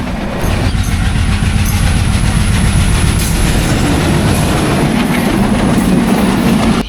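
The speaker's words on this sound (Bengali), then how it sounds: "এই সামান্য সময় ভিডিও করতে এসে আমরা 2টি ট্রেন দেখতে পেয়েছি" A train runs along a railway line close by, a loud continuous rumble with rhythmic clickety-clack of wheels on the rails and faint wheel squeal, sustained throughout.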